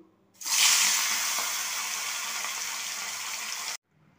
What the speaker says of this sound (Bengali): কড়াতে তেল গরম করতে দিয়েছি, গরম হয়ে গেছে। এবার মাছগুলো আমি ভাজবো।